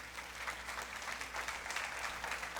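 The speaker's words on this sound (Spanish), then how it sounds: "Denle un fuerte aplauso a esta gente linda." An audience claps steadily, a dense, even wash of applause that fills the whole moment without pause or talk on top.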